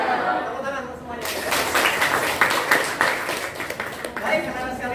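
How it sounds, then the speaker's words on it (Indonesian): Students in a classroom clap for everyone, a brisk patter of hand claps building after a short pause and running on with a few chuckles and voices mixed in. "Tepuk tangan untuk semuanya."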